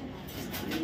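A pigeon coos softly in a short, faint burst, a low throaty murmur close by with no talking over it.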